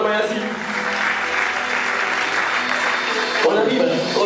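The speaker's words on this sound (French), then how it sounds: "On va applaudir encore pour Charles Mayazi" An audience applauds Charles Mayazi at a live variety show, steady dense clapping throughout that thins briefly near the end, with a voice talking over it.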